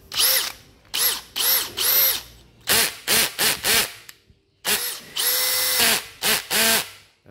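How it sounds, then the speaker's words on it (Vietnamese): Makita 484 three-function cordless battery drill in screwdriver mode, revving in about a dozen short, loud whirring bursts that spin up and wind down close by, separated by brief pauses. "Cây này cây khoan ba chức năng của Makita, này là 484 nha các bác nha."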